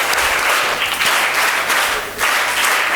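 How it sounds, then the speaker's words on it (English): Audience applause from students at an educational lecture in India, a steady, dense wash of clapping that holds loud for about two seconds, dips briefly, then swells again. "Clap for him."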